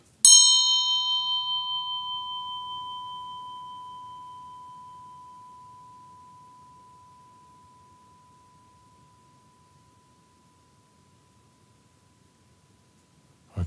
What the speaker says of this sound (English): try to see if your memory corresponds to another one of the sounds of the bell